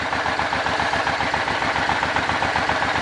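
An old Suzuki Boulevard motorcycle engine running at a steady idle, a close, loud, even low pulsing throb with no voices.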